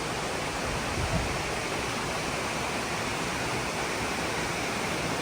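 A waterfall in Martinique pours in a steady, full rush of falling water, continuous and even from start to finish with no voices.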